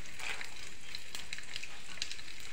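Cumin seeds and chana dal roasting in a pan make a soft, continuous sizzle with light crackling and a few sharper ticks, heard close up without voices.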